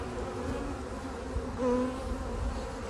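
Honey bees buzzing steadily around an open nuc hive holding a colony that had swarmed, a continuous close droning hum with a brief louder swell partway through and no talking.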